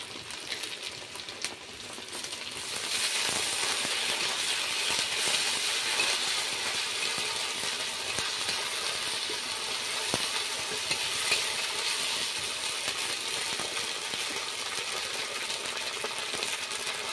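Green chilli, garlic paste, crushed tomato and ground cumin, coriander and ginger fry in hot oil for a Bengali shol fish curry, making a steady, close sizzle that starts moderate and swells into continuous crackling, with no talking.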